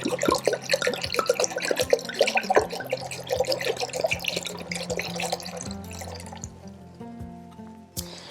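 A second bottle of wine poured into a cast iron pot for mulled wine, a close, bubbling glug of liquid that tapers into light drips, with no talk.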